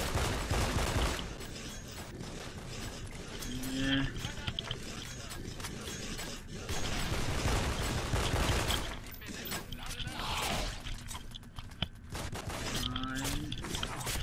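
Rapid gunfire and grenade blasts from a survival mod of a first-person shooter game crackle in dense, continuous bursts with several sharper bangs, fairly loud throughout.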